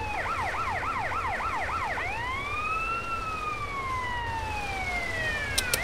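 Wailing emergency siren from a fire truck in GTA San Andreas, first a fast warbling yelp, then long slow rising and falling wails, loud and steady over a low rumble of traffic.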